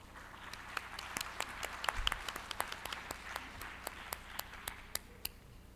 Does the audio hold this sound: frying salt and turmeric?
no